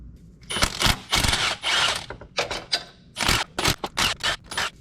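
Bolts on a BMW N54 engine being unscrewed, probably with a power tool, giving bursts of ratcheting and whirring in irregular short runs, loud and close.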